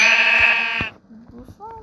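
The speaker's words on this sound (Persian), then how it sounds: "گوسفند آقا گوسفند واقعا گوسفند" A sheep in the Minecraft video game gives a loud, sustained nasal bleat, followed by faint softer game sounds.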